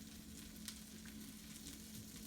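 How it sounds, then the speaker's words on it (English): Burger patty frying in a pan, giving a steady, faint sizzle with light crackling throughout and no voices. "You can hear it sizzling"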